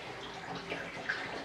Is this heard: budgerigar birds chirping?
no